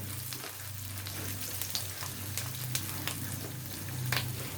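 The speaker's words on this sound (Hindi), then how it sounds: "और तेज़ आंच पर इसको हम फ्राई करेंगे।" Three or four large, coarsely cut onions fry over high heat in a pan, giving a steady, close sizzle with occasional scrapes and stirs and a low hum underneath.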